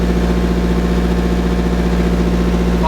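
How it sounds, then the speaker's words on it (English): A car engine idles with its downpipe unhooked, producing a steady, close, low throbbing rumble with an even, constant pulse and no voices. "My car is actually just idling right now."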